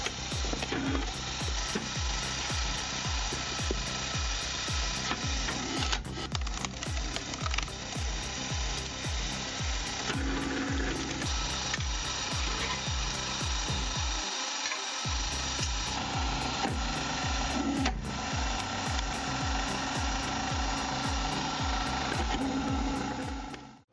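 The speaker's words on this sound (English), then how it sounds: "this modern industrial wood splitter. It's like a mobile factory on wheels. The powerful hydraulic system helps split large logs quickly." A hydraulic firewood processor works through large logs, giving a steady, loud mechanical clatter with rapid rhythmic knocking and a brief drop-out midway. No one speaks over it.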